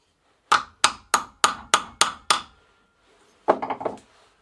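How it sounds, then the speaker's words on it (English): Seven sharp, evenly spaced hammer taps on a metal bicycle bottom bracket ring out, followed after a pause by a quick rattling cluster of lighter strikes. "I'll give it a little tap with a hammer."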